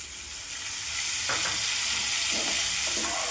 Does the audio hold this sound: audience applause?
no